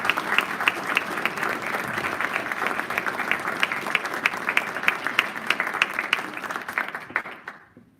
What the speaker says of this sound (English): Can we all just give a nice round of applause to all our